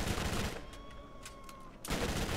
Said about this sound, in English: That's another Gears inspired weapon, the sawed off.